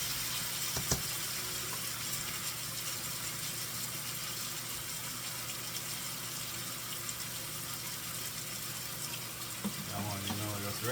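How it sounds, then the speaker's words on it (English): Water runs steadily from a tap to rinse seasoning out of a cooking pot, a faint, even hiss with a small clatter near the start and a louder splash at the end. "just rinse off that with all the seasoning in it"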